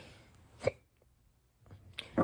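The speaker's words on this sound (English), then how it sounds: "Let me get rid of my hiccups." Two or three sharp, short hiccups from a person, close and isolated, separated by brief silence, with a faint breathy catch between them.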